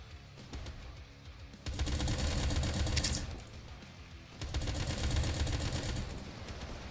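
Mortar firing in the Doomtrain video game, heard as two long bursts of loud, dense, crackling blasts separated by a quieter gap.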